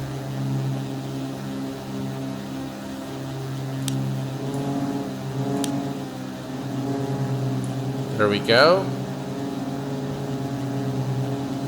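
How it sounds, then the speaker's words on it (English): Twin piston engines of a Carenado B58 Baron in X-Plane run out of sync, giving a steady droning hum with a slow beating pulse. Someone talks briefly over the engines. "I think you can hear it clearly now that the engines are not in sync"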